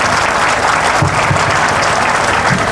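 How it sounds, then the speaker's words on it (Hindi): Audience clapping loudly at a Srimad Bhagwat Katha religious discourse in Gorakhpur, a dense, steady burst of many hands that holds evenly through the whole short stretch with no talk over it. "इसलिए सबसे पहले इनके लिए जोरदार तालियां बजा दो एक बार।"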